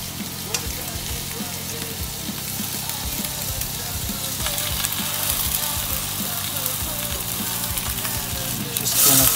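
Bacon sizzles and crackles steadily in a hot pan while a monster burger is cooked, the frying hiss continuous and fairly loud, with a few clinks and scrapes of a utensil and a louder burst of sizzle near the end.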